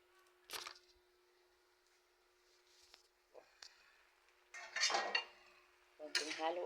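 Metal utensil clanking and scraping in a pot while stirring ginataang papaya, a Filipino dish of papaya cooked in coconut milk, in short separate bursts with a steady hum running underneath.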